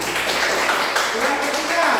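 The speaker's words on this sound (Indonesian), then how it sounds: "Tepuk tangan." A classroom of students claps together in a dense, brief burst of applause, with voices mixed in over the clapping.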